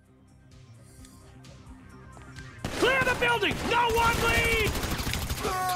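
Gunfire in the video game GTA 5 starts after a quiet stretch, with rapid bursts of shots, clattering impacts and intermittent game voices layered over the barrage.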